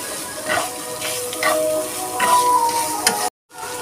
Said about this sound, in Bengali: গরম মশলার গুঁড়ো দিয়ে এটাকে ভালো করে ভাজতে থাকবো